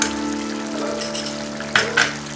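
Tomato paste added to a pan with ginger garlic paste, a continuous close sizzle with a few sharper crackling bursts as it hits the hot pan, alone without talk.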